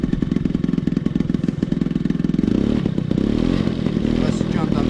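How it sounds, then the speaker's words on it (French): A motorbike with a homemade racing exhaust runs close and loud, first in a rapid pulsing putter, then settling into a denser, rougher drone as the engine note shifts. "Et franchement, le petit son du pot, j'adore."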